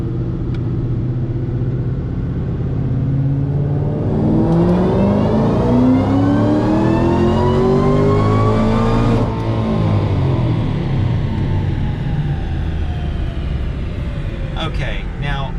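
A supercharged 2012 Ford Shelby GT500 engine roars loud and steady through a pass, its pitch sweeping up through the gears with rising whine, then dropping off sharply as the throttle lifts near the end.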